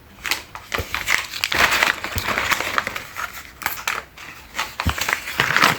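Paper crumpled and torn while unboxing Mr Beast Hybrids Mega Tech mystery pack toys: dense, close crinkling and ripping that runs steadily, with sharper tearing bursts throughout and no talking.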